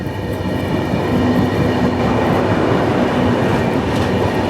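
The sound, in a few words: train crossing Kanyakumari–Dibrugarh Vivek Express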